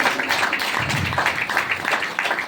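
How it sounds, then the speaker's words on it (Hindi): A crowd at a DXN India meeting in Badlapur bursts into loud, steady applause, a dense, continuous wash of clapping that fills the whole moment with no voices over it. "डी-एक्शन के लिए एक बार जबरदस्त ताली होनी चाहिए"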